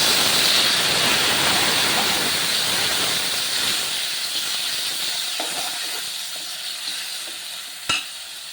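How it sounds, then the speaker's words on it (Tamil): Tomatoes hit a hot pan for a puffed-rice cutlet and sizzle loudly in a steady frying hiss that gradually eases, with one sharp utensil clank near the end. "இப்போ நம்ம தக்காளி பழத்தை போட்டுக்கலாம்"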